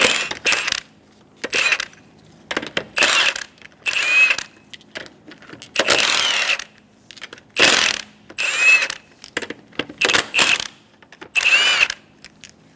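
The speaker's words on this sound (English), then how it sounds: "remove the 5 lug nuts." A socket wrench with a 19mm socket removes the five wheel lug nuts on a 2003-2007 Honda Accord, repeated bursts of loud, close ratcheting clicks separated by short pauses.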